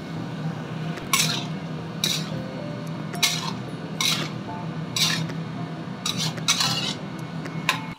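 Tomato and tempeh stirred in a pan: a spoon scrapes and clinks against the metal about eight times in a loose, unhurried rhythm over a low, steady simmer, close by and with no talking.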